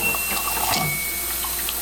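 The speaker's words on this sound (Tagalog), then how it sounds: "ito po yung tubig ko namin dito may malamig may mainit po pang kape pindutin po po natin yan" A water dispenser with cold and hot taps for coffee pours a steady, close stream of water into a glass, a continuous hiss and trickle with no talk.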